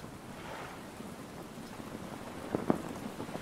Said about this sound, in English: It's gonna storm. Yeah, it's already coming down, look at it.